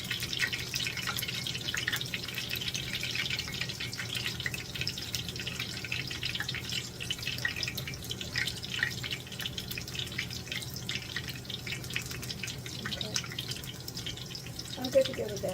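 Water trapped in onion fritters sputters and crackles in hot frying oil, a steady dense hiss of tiny pops running throughout at close range, with no talking over it.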